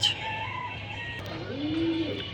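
Racing pigeons coo inside a loft, giving soft, low, rolling calls near by over a steady background hum.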